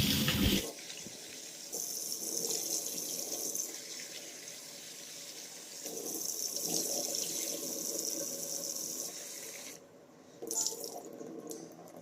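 Lentils being washed under a running kitchen tap, a steady close gush of water into a vessel with shifting splashes and a brief pause near the end before the flow resumes.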